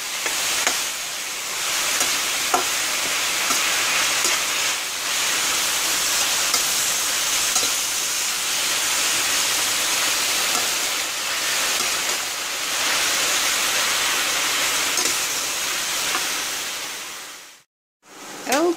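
Kalunay (Asian spinach) is sautéed in a pan, giving a loud, continuous broadband sizzling hiss that holds steady for the whole stretch, then drops out briefly near the end before returning.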